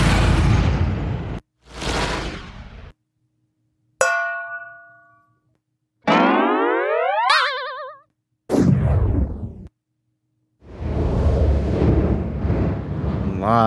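A string of cartoon sound-library effects plays one after another, with short gaps: bursts of noise, a springy ringing tone, sliding pitch sweeps and wobbling squeals, then longer rushing blasts.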